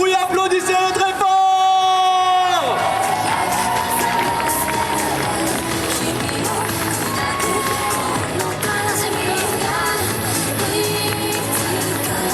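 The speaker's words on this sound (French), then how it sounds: "Faites du bruit, applaudissez-le très fort!" A crowd at a cosplay parade during an otaku festival cheers, whoops and applauds loudly and continuously, with an announcer's voice carrying over the noise.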